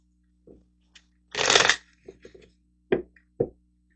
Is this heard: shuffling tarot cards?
yes